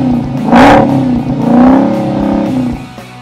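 A 2017 Dodge Challenger SRT Hellcat muscle car engine revs hard on the throttle, two loud surging roars rising and falling in pitch, close and dominant, then settling to a rumbling idle.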